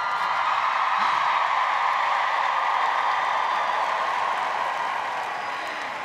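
An audience at a Mary Kay seminar cheers and applauds in one dense, steady wash of clapping and crowd noise. It holds at a constant level and fades slightly toward the end.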